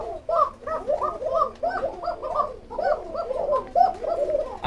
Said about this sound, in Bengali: যার যত লাগে নিতে পারবেন কোকা কবুতর।